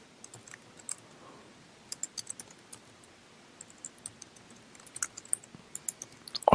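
Soft, faint keyboard clicks scattered irregularly in short bursts, quiet and close, with no voices.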